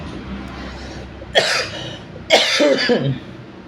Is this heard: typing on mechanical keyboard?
no